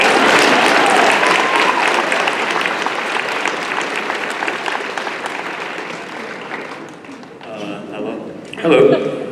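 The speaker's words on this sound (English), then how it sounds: "Yeah, round of applause." Audience applause at a Comic Con panel with an actor in Sacramento, a loud sustained wave of clapping that gradually thins out, followed by brief speech at the end.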